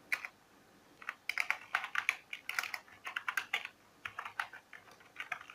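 Steady typing on a computer keyboard while entering HTML and jQuery code, a fast run of close, crisp key clicks with brief pauses between bursts, alone without talk.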